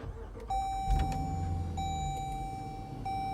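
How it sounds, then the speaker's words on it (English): A 2018 Jeep Grand Cherokee Trackhawk starts with a push button: a brief low rumble and cranking burst near the start gives way to a steady close engine idle, with thin electronic tones running over it. "I'll go ahead and start the vehicle up for you guys."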